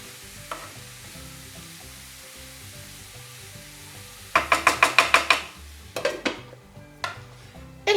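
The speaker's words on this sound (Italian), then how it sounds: "Mescoliamo un po'." A spoon stirs mushroom sauce cooking in a pan over a soft sizzle, with a quick run of about six bright metallic clinks mid-way, then a few scattered scrapes and taps.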